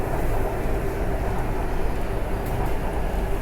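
A steady rumble from riding aboard a Bangkok skytrain electric train, a continuous, fairly loud hum and rattle with no voices over it.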